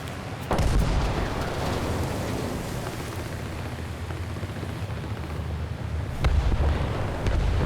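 Heavy naval gunfire from an enemy warship in War Thunder: a deep booming shot near the start and another near the end, over a continuous loud low rumble of engines and battle noise.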